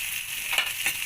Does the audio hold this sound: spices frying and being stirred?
yes